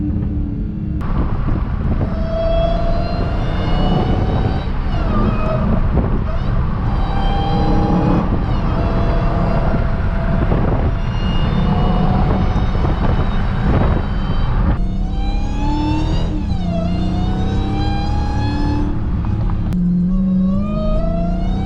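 A car climbs a mountain road up Mount Baldy, its engine a steady close rumble with shifting tones as it pulls through gears and the revs rise and fall, with wind buffeting underneath.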